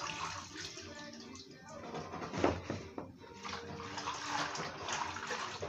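Fresh vegetables washed in water, a continuous close splashing and sloshing with a brief louder splash midway and a faint voice under it.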